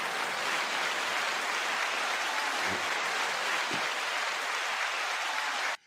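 Steady applause from a studio audience at the close of a culture talk show, a dense, even wash of clapping held at one level for about six seconds before cutting off abruptly.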